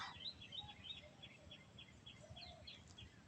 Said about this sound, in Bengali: নেই কোনো কোলাহল, আছে শুধু পাখির ডাক।